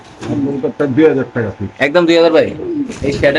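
Cooing pigeons for sale at a crowded pigeon market, loud and close, mixed in with someone talking throughout.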